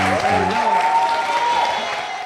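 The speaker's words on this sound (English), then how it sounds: "Clap it up for" An audience applauds at a live show in Houston. The clapping is loud, dense and steady for about two seconds, with a faint sustained tone running through it.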